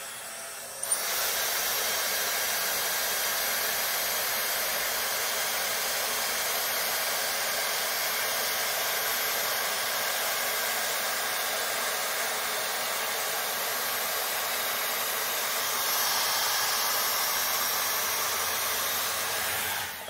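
A Dyson Airstrait hair dryer-straightener switches on in dry mode at boost and blows with a loud, steady, even whoosh that holds for about twenty seconds before cutting off.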